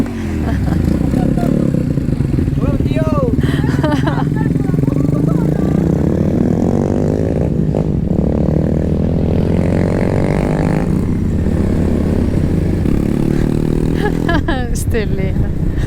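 Motorcycle costing 1200 revving on a mountain road at Cuesta de Miranda, a loud continuous engine drone that swells as the throttle opens, with talk over it the whole time.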